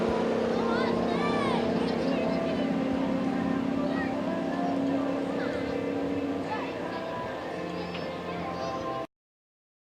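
A Supra wakeboard tow boat at an advanced wakeboard tournament drones with a steady, loud engine hum throughout, with a commentator talking over it.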